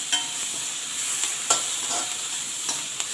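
Onions, tomatoes and dried chilies sautéing in a pan, a steady bright frying hiss punctuated by a few soft spatula scrapes and taps, close and with no talking.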